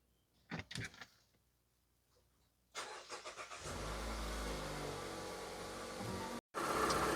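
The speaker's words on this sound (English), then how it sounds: "So now we are going to start the vehicle." A 2023 Mazda CX-5 with the 2.5-liter engine: a few faint clicks, then the starter cranks and the engine catches into a steady, loud idle that drops out briefly and resumes near the end.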